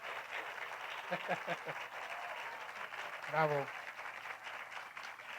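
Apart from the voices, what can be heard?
audience applause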